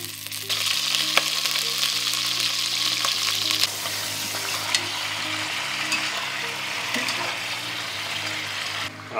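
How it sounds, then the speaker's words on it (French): Pieces of coot browning in olive oil in a saucepan give a steady, close sizzle and crackle that runs unbroken for the whole stretch, with no voices over it. "Puis on va faire rissoler tous nos morceaux de fouque."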